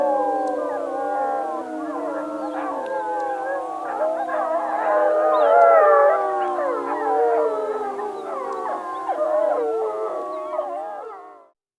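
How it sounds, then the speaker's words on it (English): A Yellowstone wolf pack, the Molly's pack, howls in chorus, several voices rising and overlapping in long, wavering tones that hold steady and fairly close for nearly twelve seconds before cutting off. "We'll let the wolves here do a little chorus howl to get us into their life a little bit"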